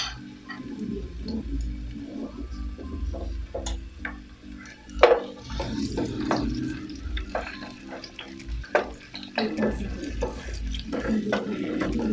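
Onions sauté in a hot pan with a steady, close sizzle and frying hiss, broken by occasional stirring scrapes and utensil clicks against the pan; no one speaks.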